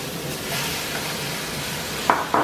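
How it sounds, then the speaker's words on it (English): Beef browns in a pot with softened onions, giving a steady close sizzle and frying hiss, with two sharp utensil scrapes or clinks near the end and no speech. "I am going to add in our beef."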